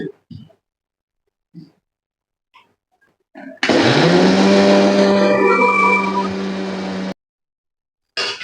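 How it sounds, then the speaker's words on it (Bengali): An electric kitchen mixer grinder grinds atop rice into flour for pitha, a loud, steady motor whine with harsh grinding that starts abruptly, runs about three and a half seconds, then cuts off after a few faint knocks. "এই চালটা আমি মিক্সারে গুঁড়া গুঁড়ো করে নেবো"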